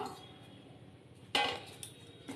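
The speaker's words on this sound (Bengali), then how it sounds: "এবার ঢাকনাটা খুলে দেখব" A lid lifted off a container of dough left resting for khaja puri, giving one clear clattering clink midway through a quiet room, with a fainter knock shortly after.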